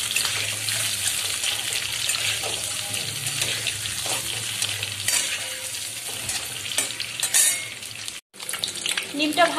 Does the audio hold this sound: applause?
no